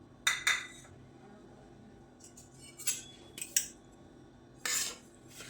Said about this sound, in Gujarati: હવે સોજીને ધીમા ગેસની ફ્લેમ ઉપર શેકવાની છે